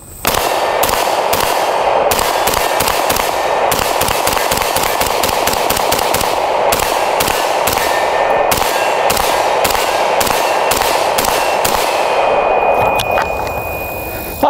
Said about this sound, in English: Quick little mag dump, how about it, all right? First up, the X95 Tavor.